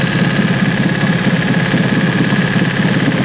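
Mercury 25hp four-stroke EFI outboard engine running loud and close with a steady, even drone and rapid rhythmic pulsing, unbroken for the whole stretch.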